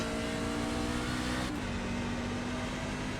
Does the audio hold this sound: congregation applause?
no